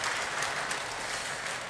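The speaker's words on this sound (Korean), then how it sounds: "박수로 격려하겠습니다." A church congregation claps for the worship team in a steady, dense round of applause that fills the room evenly for under two seconds, with no voice on top.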